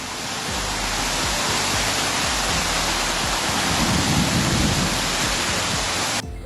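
Heavy storm rain pouring down in Portoferraio and Carrara, Italy, a dense, loud, continuous rushing hiss with a low rumble swelling midway, unbroken by voices until it cuts off near the end.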